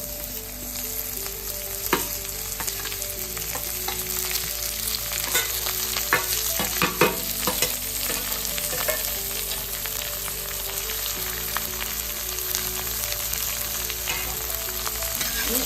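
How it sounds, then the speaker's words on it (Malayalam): Cluster beans with onion and green chilli sizzle steadily in a hot pan as a spoon stirs them, giving a continuous close frying hiss with occasional scraping knocks and no talking. "നല്ലതുപോലെ ഇളക്കി കൊടുക്കണം"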